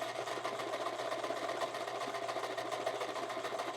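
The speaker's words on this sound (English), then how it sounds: "My machine is definitely not skipping stitches when I have the presser foot on." Sewing machine stitching fabric with the presser foot down, a steady, fast whirring rattle of needle strokes heard close and alone for a few seconds.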